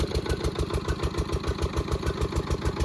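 A diesel engine kept beside a solar setup runs steadily on its own, a close, even low throb with a regular pulsing beat and no talk over it.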